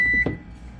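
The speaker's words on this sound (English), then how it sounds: "the oven beeping at us" A kitchen oven gives a single short electronic beep, a steady clear tone lasting about a quarter second, followed by quiet room background.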